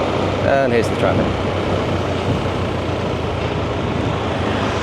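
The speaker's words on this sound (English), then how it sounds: "here's the traffic." Steady roar of street traffic in Thailand, a dense wash of engines and road noise heard from close by, with a brief horn-like tone early on.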